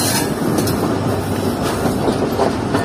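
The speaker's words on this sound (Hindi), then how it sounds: "एग्जैक्टली 3:40 हमारी ट्रेन पहुंच रही है road Hyderabad junction railway station के प्लेटफॉर्म नंबर 3 पर" The Rehman Baba Express pulls into platform 3 at Hyderabad Junction in Pakistan, giving a loud, steady rumble with clattering wheels and faint squeals throughout.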